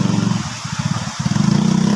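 A motorcycle engine idles and putters with a rapid pulsing beat on a farm road as the bike is pushed uphill, dipping briefly in the middle before steadying again, no speech.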